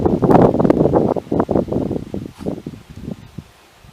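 Wind gusts outdoors at a dacha on a cold day, buffeting the microphone in loud, irregular bursts of rumbling noise that fade toward the end.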